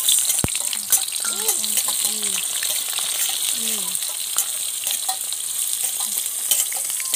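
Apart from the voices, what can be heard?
beating eggs for an omelette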